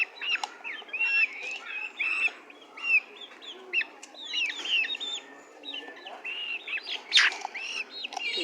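A flock of native deshi chickens about two months old, kept shut in because of rain, clucks and peeps in short overlapping calls. A few sharper chirps stand out close by, and the chatter continues throughout.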